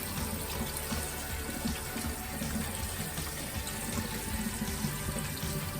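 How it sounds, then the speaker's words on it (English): Cold tap water runs steadily from a faucet over cooked potatoes in a kitchen sink, a continuous close splashing rush with no talking. "I'm gonna run some cold water over the potatoes to stop the cooking"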